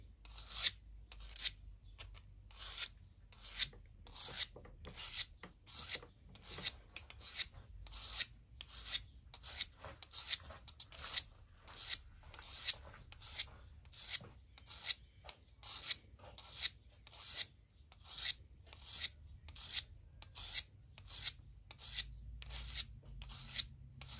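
Secateurs blade sharpened by hand with a file, a long series of regular rasping strokes about one per second, close and fairly quiet, with no talking.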